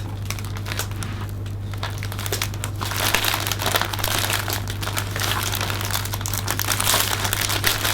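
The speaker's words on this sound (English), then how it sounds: "I'm now going to scrunch my cellophane in from this centre point where the tying point actually is" Cellophane being scrunched and crinkled around a flat pack bouquet at its tying point, a close, steady crackling that runs throughout and grows slightly louder partway through.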